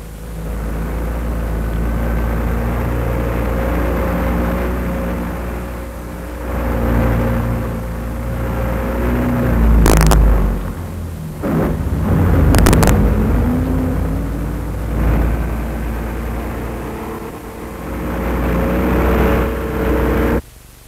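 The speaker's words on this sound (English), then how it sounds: "The mobile artillery moves out to the range at Camp Hunter Liggett for firing practice." A column of mobile artillery vehicles drives out to the firing range at Camp Hunter Liggett in 1950. Their engines make a loud, continuous rumble that swells and fades as each one passes close by, with a few sharp clanks.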